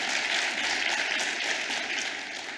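A large crowd applauds at the ANC's 6th policy conference, a thick continuous roar of clapping held at a strong, even level throughout with no speech on top.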